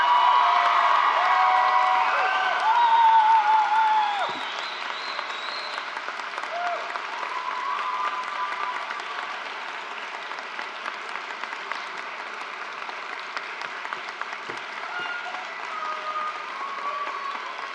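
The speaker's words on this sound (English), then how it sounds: "Please join me in giving a huge round of applause to Ms." Sustained applause and cheering from a high school graduation crowd honoring a retiring teacher, loud at first with whoops and shouts, then settling into steady clapping that carries on to the end.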